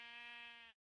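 A single sheep bleats in Minecraft at a sheep farm moved into a cave, a clear steady tonal cry lasting most of a second before cutting off cleanly into silence.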